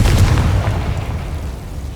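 A single heavy blasting-spell explosion from Hogwarts Legacy, a deep booming burst that hits at once and then rumbles and fades over two seconds.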